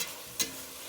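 Pepper, salt and dried mint being added to simmering beans and tomatoes in a pan, with a steady soft sizzle and a brief stirring scrape in the middle, no talking.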